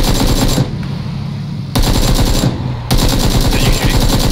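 Loud, close bursts of automatic gunfire from the video game PlayerUnknown's Battlegrounds, rapid shots in three sustained volleys separated by brief pauses, with no talk over them.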